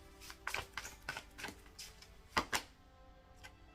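Tarot cards are being shuffled in quick, papery riffles and taps, a cluster of soft flicks followed by two sharper snaps near the end, close and quiet with no talking.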